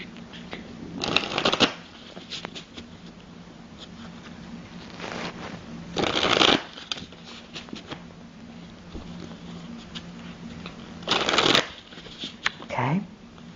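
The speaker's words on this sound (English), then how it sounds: "let me shuffle the cards" Tarot and oracle cards being shuffled by hand in three brisk riffling bursts separated by quieter handling and light rustling, close and clear with no talk.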